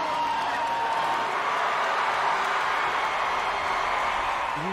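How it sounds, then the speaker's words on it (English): A large crowd roars continuously at the Daytona NASCAR race, a steady broadband wash blended with distant stock car engine noise, sustained and dense throughout. "You can hear the crowd roaring over the sound of the engines."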